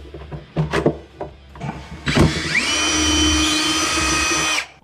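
A power drill backs the final screw out of a wall-mounted cabinet in a garage, with a few short clicks and knocks before a steady, close, loud motor whine that rises in pitch and runs for about two seconds before stopping abruptly.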